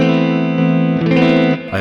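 An electric guitar runs through a Mooer preamp with its boost engaged, sustained chords ringing bright and saturated, one held chord followed by a fresh strum and another near the end, close and loud.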